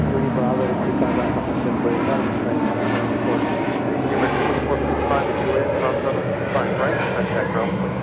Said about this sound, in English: That is Volaris Flight 923 departing to Zacatecas on an A320 Neo.